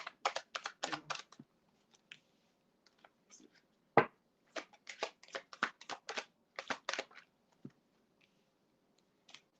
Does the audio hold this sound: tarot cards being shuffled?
yes